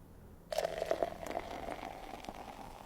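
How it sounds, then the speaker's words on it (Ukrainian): Hot water is poured into a drip coffee filter bag: a steady, close trickling pour begins after a brief quiet moment and keeps splashing softly to the end. "Потрібно три рази наповнити фільтр-пакет гарячою водою."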